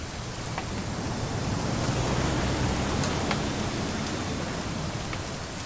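Steady rain falls in the video game What Remains of Edith Finch, a dense continuous hiss of drops with a few sharper patters, with no voices over it.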